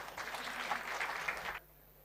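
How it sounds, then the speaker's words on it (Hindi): Audience applause at a talk on Indian railway stations and the Vande Bharat train, a steady burst of clapping lasting about a second and a half before cutting off abruptly. "ताली बजाओ इनके लिए।"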